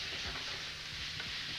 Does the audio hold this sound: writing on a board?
no